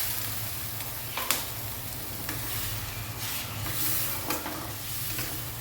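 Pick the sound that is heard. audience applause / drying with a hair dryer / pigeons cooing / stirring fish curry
stirring fish curry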